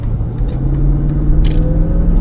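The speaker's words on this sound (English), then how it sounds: "I'll give her a little bit of gas just to, you know, see how she gets up to speed." A 1991 Mercedes-Benz SL500 pulls onto the road under light throttle, its engine a steady, close low rumble with a faint rising tone as it gathers speed.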